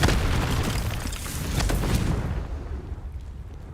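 A Confringo spell explosion in Hogwarts Legacy: one heavy, close boom that rumbles and fades over a few seconds, with no voices.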